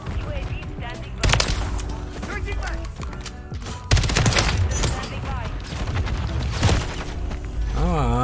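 Gunfire in the online shooter Call of Duty Modern Warfare, hardcore mode: loud, close bursts of rapid automatic fire, with sharp gunshots and booms recurring throughout over game noise.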